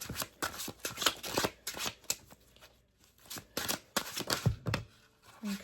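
Tarot cards are shuffled by hand in a run of quick, crisp riffles and soft slaps, bursts coming in an uneven rhythm with short pauses, close and clear.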